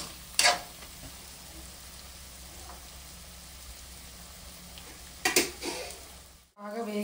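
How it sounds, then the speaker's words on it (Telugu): Onions frying in oil give a faint, steady sizzle, broken by two brief clattering bursts of stirring near the start and toward the end. "తర్వాత వచ్చేసి మళ్ళీ ఉల్లిపాయలు అవి కూడా బాగా ఫ్రై చేయాలి కదా."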